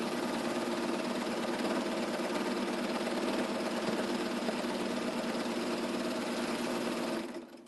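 A serger stitches a fabric strip onto a pillow, a steady, fast mechanical whir running evenly at close range before stopping abruptly near the end.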